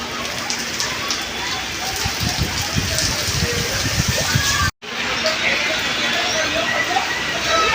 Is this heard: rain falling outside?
yes